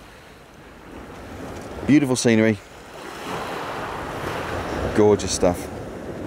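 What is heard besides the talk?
sea waves and wind on Eastbourne beach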